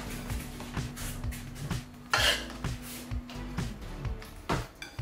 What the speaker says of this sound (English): I'm gonna cut prawn in half.